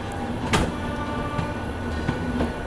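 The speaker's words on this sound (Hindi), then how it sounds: "यहाँ पर प्रयागराज एक्सप्रेस आगे जाती हुई" The Prayagraj Express rolls past, a continuous rumble of rail cars with faint periodic clicks and clanks, steady and moderately close, with no speech.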